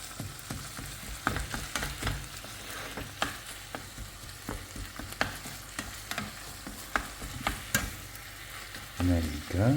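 Meat fries in a hot pan while a utensil breaks it up, producing a continuous sizzle punctuated by sharp, regular scraping knocks close by.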